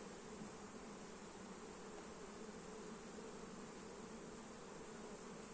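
A steady, dense buzzing of many honeybees at a hive during honey harvest, continuous and even throughout with no talking.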